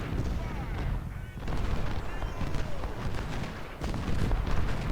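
Continuous Civil War battle sounds in the strategy game Ultimate General: Civil War, with rolling artillery booms and crackling musket volleys overlapping in a dense, steady din.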